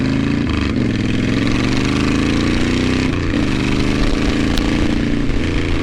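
Steady, loud, rumbling V-twin engine of a 2010 Honda Fury cruiser motorcycle while riding, a deep, throbbing tone that holds nearly constant throughout.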